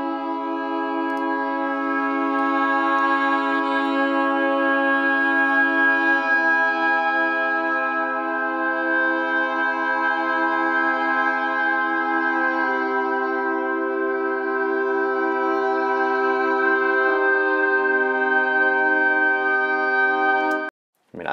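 Sampled brass, alto saxophone and a double reed ensemble swell blend in long, sustained chords that shift slowly. The warm, full orchestral texture holds for about twenty seconds, then cuts off abruptly, with no voices over it.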